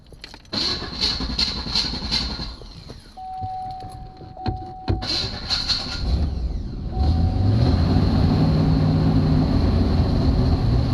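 An LS-swapped 2006 GMC Envoy cranks and turns over with several stuttering attempts, a brief tone and sharp clicks, then catches and settles into a steady, loud running rumble that holds to the end.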